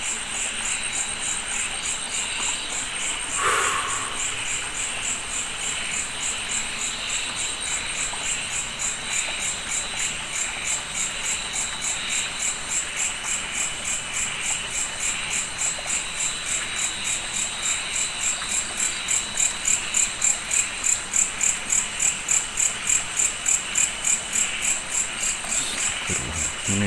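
A dense, steady chorus of crickets and grasshoppers trills through a quiet night beside a hut, with a pulsing rhythm that grows more pronounced toward the end; no frog croaks stand out and no voices are heard.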